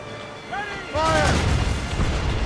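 Ship cannons firing in the naval game Assassin's Creed Rogue, a heavy rumbling broadside that erupts suddenly and rolls on loudly, with a voice shouting just before the blast.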